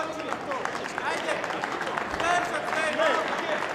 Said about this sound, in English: Crowd giving some support, getting into it.